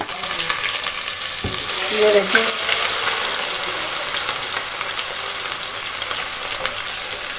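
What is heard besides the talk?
garlic ginger paste frying in hot oil with fenugreek, fennel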